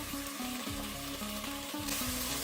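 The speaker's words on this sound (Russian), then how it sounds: "Масло накалилось, выкладываем наше мясо и жарим." Meat sizzles in hot oil over high heat while Uyghur lagman is being cooked, a steady, close, loud frying hiss with occasional stirring sounds and no voices.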